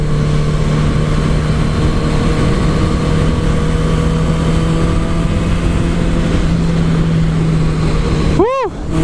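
Kawasaki ZX-10R motorcycle ridden on a highway, a loud steady engine drone with wind rush throughout and a brief sweeping whine near the end, no talk heard.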